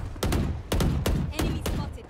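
Gunfire in the video game Valorant, about four sharp bursts of shots spaced roughly half a second apart, loud and close, with a voice calling out between them.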